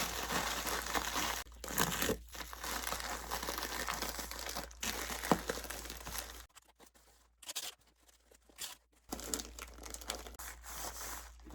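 Plastic air pillows being crinkled and pressed into an eBay shipping box around packed items, with continuous rustling and crunching, several brief pauses and a quieter stretch midway, close and fairly loud.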